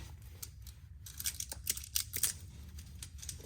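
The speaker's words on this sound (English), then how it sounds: "I always will cut back this plastic that goes with it as well" Scissors snip through the plastic covering of a GGJIA high bay light, a quick run of sharp cuts with light crinkling, close and clear with no talk.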